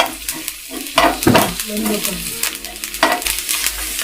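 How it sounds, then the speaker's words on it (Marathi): Sesame seeds dry-roasting in a pan, loud close crackle and rattle as a spoon stirs and scrapes them in repeated strokes. "एक चमचा आम्ही तीळ घेतलेली आहे ती सुद्धा भाजून घेणार आहे"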